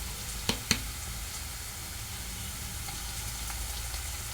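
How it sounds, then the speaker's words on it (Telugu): Onion frying with ginger garlic paste for a dondakaya curry, a steady soft sizzle throughout with two sharp pops near the start, no talking. "కొంచెం ఆనియన్ ఫ్రై అయింది కదా, కొద్దిగా జింజర్ గార్లిక్ పేస్టు"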